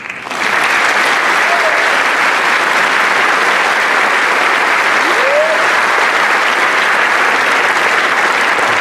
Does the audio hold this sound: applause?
yes